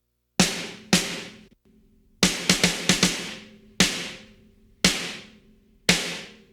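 A 5x14 Premier 2000 snare drum sample is struck in a sparse pattern, about ten crisp, loud hits with ringing decay, some in quick succession, played alone and close.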